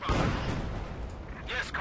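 Unit gunfire and artillery-like booms from a 4v4 battle against hard AI in the Company of Heroes 2 beta, a dense, continuous barrage with a loud opening burst and sharper cracks near the end. A voice talks over it.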